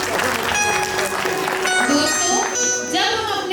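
Audience at the opening of a Basant Panchami festival program clapping in a dense, sustained burst mixed with crowd noise and voices, lasting the whole short stretch.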